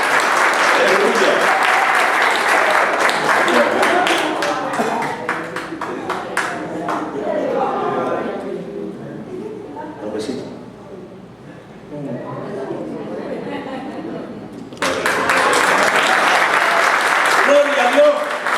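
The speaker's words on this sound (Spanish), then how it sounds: "Dale un aplauso fuerte al Señor." Loud, sustained applause from a church congregation, with a voice speaking and calling out partway through before the clapping swells again.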